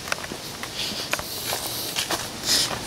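Footsteps on an outdoor path, a series of soft irregular crunching steps, close to the microphone, over a low windy background hiss without talking.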